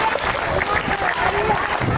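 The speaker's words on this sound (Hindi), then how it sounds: "जोरदार तालियां हो जाए भाई, जोरदार तालियां हो जाए।" Crowd applause at an Independence Day school event, a dense continuous clapping wash with muffled voices mixed in.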